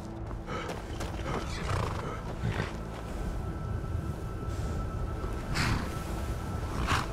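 Horse in the Skyrim video game, neighing and whinnying amid game sounds, with possible hoof clops and a continuous ambient backdrop; moderately loud bursts recur over several seconds without speech.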